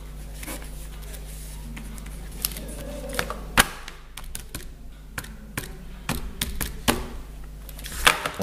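Sharp, irregular key taps from someone entering numbers on a calculator during a physics exam walkthrough, close and fairly quiet over a low steady hum.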